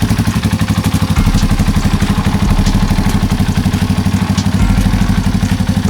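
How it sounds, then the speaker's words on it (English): A Suzuki LT250R quad fitted with a DG exhaust idles up close, its loud, rapid and steady exhaust pulses chugging in an even rhythm with a faint mechanical clatter running underneath. "I'll let it run for a bit."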